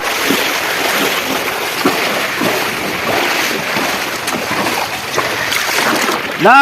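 Rushing water at the Kakkadi waterfall in the rain, a steady broadband roar throughout, loud and close with wind buffeting the microphone.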